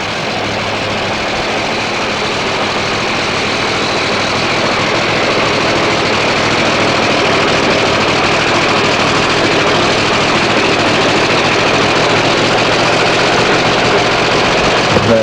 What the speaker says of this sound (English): The car is starting to sound very, very strong.